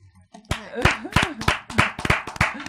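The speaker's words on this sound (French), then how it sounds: "Applaudissez." Hands clap in a strong, regular rhythm under singing or chanting voices after a brief quiet start, the claps close and punchy and evenly spaced.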